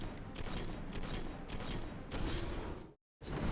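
Gunfire and weapon mechanics in Fallout: New Vegas with a weapon sounds overhaul mod: dense, clattering shots and metallic action noise, steady and loud, cutting off abruptly before resuming.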